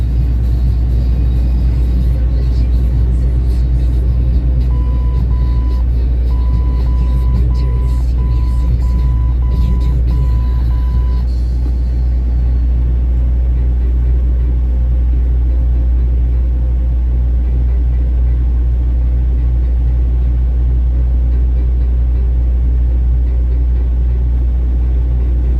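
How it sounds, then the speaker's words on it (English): Road traffic heard from inside a waiting truck, a heavy constant low rumble of engines with a repeating electronic beep partway through and faint music in the background, steady and loud the whole time. "Sitting here waiting for this traffic to get them moving."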